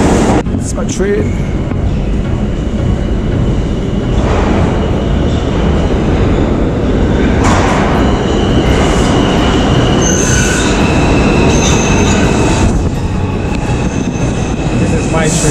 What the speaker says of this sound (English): famous New York City subway, love it